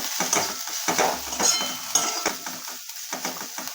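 A spoon scrapes and stirs turmeric, coriander-cumin powder and red chili powder around a pan, giving close, irregular scratchy strokes over a soft sizzle.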